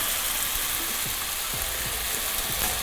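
Pad Thai noodles fry in a hot pan with a loud, continuous sizzle, and a few low thumps and scrapes come as they are tossed.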